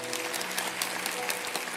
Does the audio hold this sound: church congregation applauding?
yes